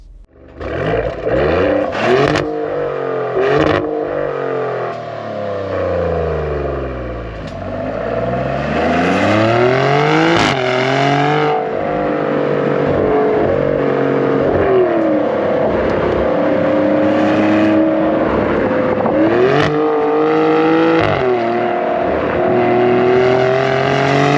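A 2023 Maserati Grecale Trofeo pulls away and accelerates hard, its engine climbing through several gears in rising, falling sweeps, then settling into a sustained loud drone heard from inside the cabin.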